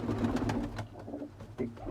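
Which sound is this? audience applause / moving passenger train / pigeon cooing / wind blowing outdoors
pigeon cooing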